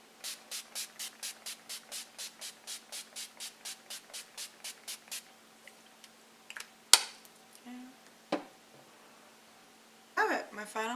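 A bottle of Urban Decay All Nighter setting spray is pumped in a fast run of about twenty evenly spaced, crisp spritzes, followed by a few scattered handling clicks and taps.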